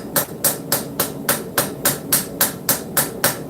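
A ball peen hammer beats hot steel along a knife's edges during forging, planishing the corners down: about eleven sharp, ringing strikes land in a steady, even rhythm, close and loud, with no talking.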